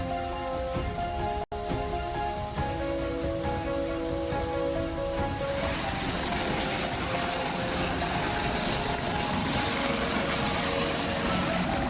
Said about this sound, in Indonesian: Mereka diterbangkan menggunakan helikopter milik Kodam Cendrawasih.